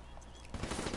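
HVK rifle firing in a first-person shooter video game, a dense, loud burst of rapid gunfire that erupts suddenly halfway through after a quieter stretch.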